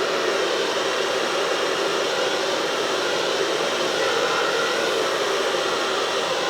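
Steady, loud rush of air from a blower pushing fluid paint across a large canvas in a Dutch pour, a constant hiss with no breaks and no voices.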